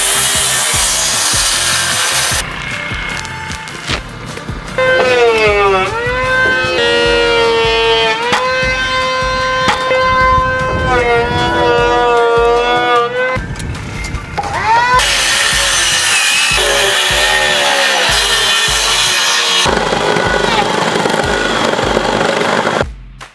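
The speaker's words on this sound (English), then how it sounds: "And now I'm just down here cutting up these splices." A saw cuts wood splices for a carport and porch build, a loud, close, continuous rasping with shifting pitch that runs almost nonstop, with no talking.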